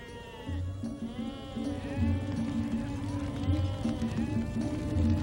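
A herd of sheep and goats bleats repeatedly, overlapping calls rising and falling over a low shuffling background.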